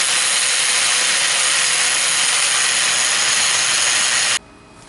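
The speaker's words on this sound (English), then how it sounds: "I'm gonna go ahead and grab my angle grinder." An angle grinder cuts through a metal handle, a loud, steady, high-pitched whine that holds constant for over four seconds and then stops abruptly.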